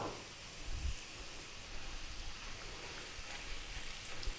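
Mashed potato hitting a hot pan with onion and curry-powder spices, giving a quiet, steady sizzle and hiss with a soft thump near the start and no talking.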